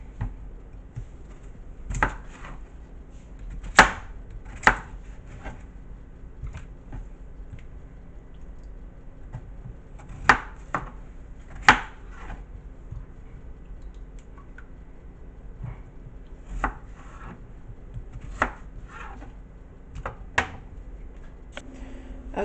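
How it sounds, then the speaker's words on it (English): Peeled potatoes being cut into quarters with a knife on a board, a scattered series of crisp, sharp chops, some in quick pairs, close and isolated against a quiet background. "I'm just gonna quarter them, or at least cut them into smaller pieces, so I'll be able to boil them"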